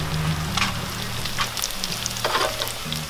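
Lunch fries in a pan with a continuous close sizzle, a low steady hum running underneath and no one speaking.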